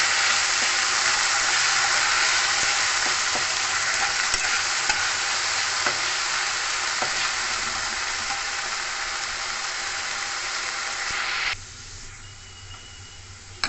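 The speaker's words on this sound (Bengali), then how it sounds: "আর দেবো সামান্য পরিমাণে হলুদ এটা আলুটাকে ভালো করে ভেজে নেবো" Potatoes frying in oil with salt and turmeric give a loud, steady, close hiss and sizzle with faint stirring clicks, dropping abruptly to a quieter simmer near the end.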